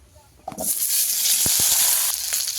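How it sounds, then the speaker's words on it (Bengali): Large potato chunks dropped into hot oil start a loud, steady sizzle and crackle that fills the space, with a few sharp pops and spatters near the start. "তেল ভালো করে গরম করে নিয়েছি এইবারে দিয়ে দেবো আলু"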